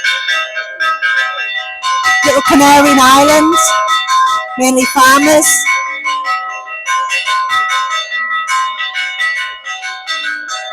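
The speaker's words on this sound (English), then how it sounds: "the bells you hear are actually being rang by hand" Church bells rung by hand by one woman at the start of a fiesta in a small farming village on a Canary island, a steady bright peal of repeated strikes close by, with someone talking over part of it.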